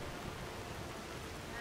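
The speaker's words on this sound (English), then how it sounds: "And now it's raining." Steady rain falls in the Skyrim video game around the city of Whiterun, a soft, even hiss that holds at the same low level for the whole short stretch without any distinct drops or thunder.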